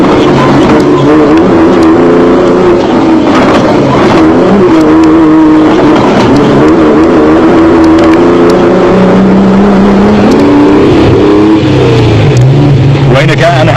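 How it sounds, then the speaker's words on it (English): Mitsubishi Pajero racing in a South African off-road event, a loud engine drone with shifting pitch as it accelerates and changes gear, under continuous commentary. "With Carolyn and Testiga in the Mitsubishi Pajero."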